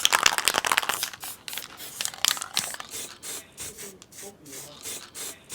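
Masking tape is pressed and rubbed over the ventilation holes in the cover of an old Ural saw being restored, making close, repeated rasping, crinkling and smoothing strokes in uneven bursts.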